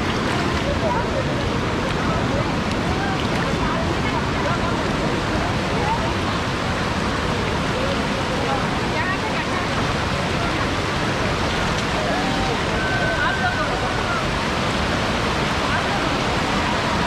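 Jatmai waterfall at a temple site in Gariyaband, Chhattisgarh, with a crowd bathing in it: a loud, steady roar of rushing water fills the whole stretch, with faint voices blurred underneath.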